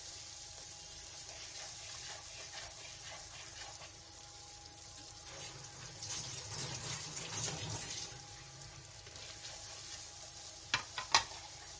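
Spice masala for dal fries in a pan with a low, continuous sizzle and occasional stirring scrapes, followed by a few sharp clinks near the end.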